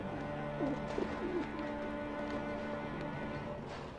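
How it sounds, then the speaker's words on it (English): Pigeons cooing on rooftops in Alice Madness Returns, a few soft throaty coos near the start over a steady ambient hum, then fading into the background drone. "on the rooftops with the pigeons"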